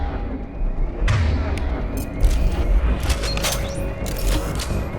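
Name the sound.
grenade launcher explosions in Mass Effect video game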